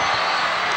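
Basketball crowd at a 1985 high school state final erupting in loud, dense cheering right after a three-point shot.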